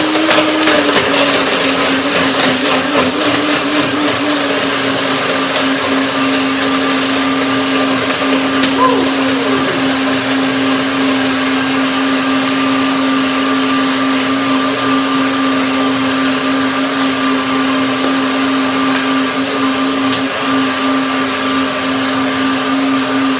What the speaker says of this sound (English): The blender will have an easy time.